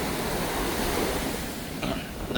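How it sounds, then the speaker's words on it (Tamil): Steady roar of sea waves surging onto the shore at Mullaitivu, with broadband wash throughout and a slightly louder crash near the end. "பாருங்க எப்படி கடல் அடிக்குது"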